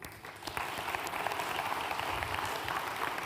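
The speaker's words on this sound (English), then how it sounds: "let's give a round of applause to" A conference audience at an anniversary event for child and family support services breaks into sustained applause, many hands clapping in a dense, steady wash that swells after a brief quiet start and holds at an even level.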